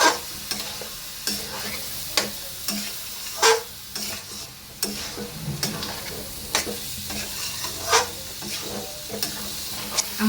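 Parboiled rice is stir-fried with spices in a pot for khichuri, a low steady sizzle under regular scraping strokes of a spatula, with sharper clacks every second or so.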